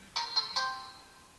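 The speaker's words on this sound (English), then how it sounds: "That would be a text message." A phone's text message alert tone rings out as three quick bright chime notes that ring on and fade gradually in a quiet room.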